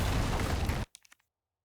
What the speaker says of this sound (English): Why did an explosion scare me?